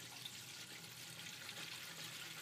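Water rushes steadily from a newly installed well pump in a new home, a faint continuous hiss with no talk.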